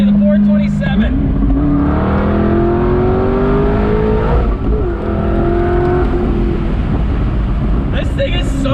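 A 2013 C6 Corvette 427 with a supercharged LS7 making 650 wheel horsepower drives along, its close, loud engine drone climbing steadily in pitch through acceleration before easing and rising again.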